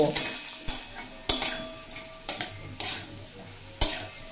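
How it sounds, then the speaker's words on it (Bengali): Potatoes frying in a pan on a medium flame for a raw banana dish, a soft sizzle under a few sharp clinks and scrapes of a spoon against the pan, with no one speaking. "মিডিয়াম ফ্লেম করে আলু 2 মিনিট মতো ভেজে নিয়েছি।"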